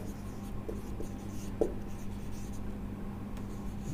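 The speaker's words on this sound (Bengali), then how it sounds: "আমরা এখানে লিখে দেই" Chalk or marker strokes on a classroom board during a chemistry lecture, faint scratching and light taps over a quiet room hum, with one slightly sharper tap midway.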